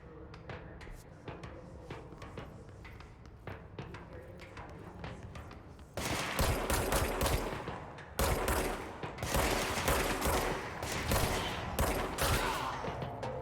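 Gunfire in the action game Control starts as scattered, sharp single shots, then swells into loud, dense, sustained volleys with brief breaks.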